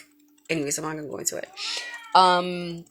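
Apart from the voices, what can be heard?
cat meowing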